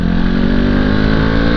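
A Honda CB500X parallel-twin motorcycle engine drones steadily while riding in a group, loud and close, as a dense continuous buzz with wind rush and no voices.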